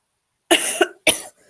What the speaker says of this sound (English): Apologies if you're hearing me cough.